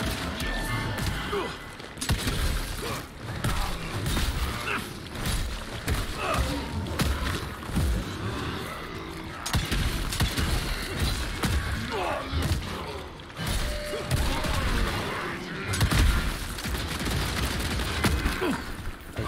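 Gunfire and explosions from the video game Evil West pound on without letup, dense loud bangs, thuds and booming blasts layered over each other with scarcely a quiet moment.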